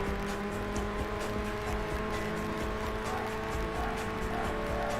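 Race cars in the video game Burnout roar continuously at a moderate level, engines revving with faint tire noise on a winding track with semi-trucks, and no one speaking.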